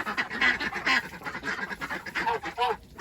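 Ducks kept in a poly tunnel alongside chickens quack repeatedly and nearby in a busy, overlapping chorus of short nasal calls with no pauses.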